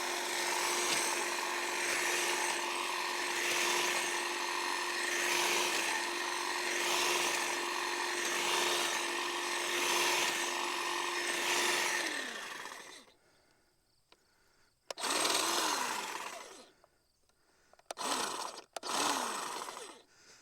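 Cordless DeWalt power shears trimming a Christmas tree: a steady, loud buzzing whir with a rhythmic chopping pulse runs for about twelve seconds, stops, then returns in a few short bursts as the trigger is pulled again.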